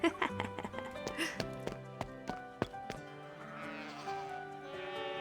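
Several clear sheep bleats in a video game, close and overlapping, alongside hoof-like clip-clop taps and a soft background tone.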